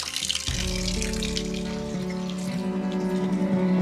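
Cool mountain water runs steadily near a village in Albania, a continuous splashing rush like a spring or tap pouring, heard close and alone without talk.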